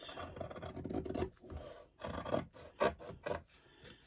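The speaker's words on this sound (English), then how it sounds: "you can then trim off any excess foam" Close, rasping snips and rubbing as scissors trim excess foam stabiliser on a sewn clutch bag in several uneven bursts separated by brief pauses.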